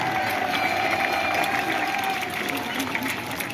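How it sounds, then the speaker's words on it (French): A crowd at an outdoor village ceremony applauds steadily, with cheering and crowd noise blended into a loud, sustained roar. "Je voudrais que vous vous applaudissiez encore."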